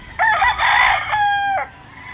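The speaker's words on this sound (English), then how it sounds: "Around 4 in the morning, they start crowing." A rooster on a Philippine gamefowl farm lets out one loud, close crow, rising then holding a long final note before it cuts off, with no other sound around it.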